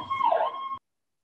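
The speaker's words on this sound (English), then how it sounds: "Yeah, the siren." A brief, steady siren tone sounds for under a second, then cuts off abruptly into silence.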